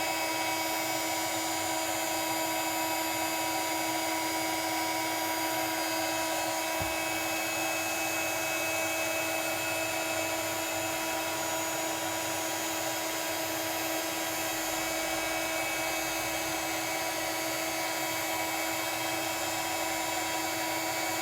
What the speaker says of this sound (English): I'm just moving the heat gun over the image